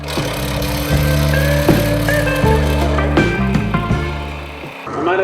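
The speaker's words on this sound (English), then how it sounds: "just let the Forstner bit do its job" A Forstner bit bores into wood spinning on a lathe at 1,000 RPM while a snowman tea light holder is turned, giving a steady close hum with regular rhythmic knocks of the cut.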